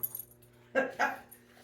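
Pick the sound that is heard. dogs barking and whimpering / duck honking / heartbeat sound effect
dogs barking and whimpering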